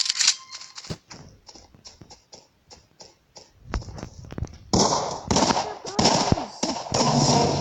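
Shotgun blasts in the Battlelands video game, a run of sharp reports with brief pauses that grows into dense, rapid gunfire and explosions toward the end.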